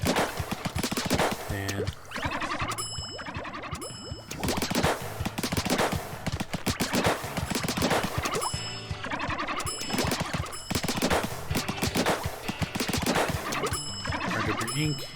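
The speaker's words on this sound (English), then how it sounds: "just kind of go through and just shoot the targets" Rapid shots at targets in a Splatoon-style video game, a dense and steady stream of game firing and impact effects over background game music, with a brief word of talk.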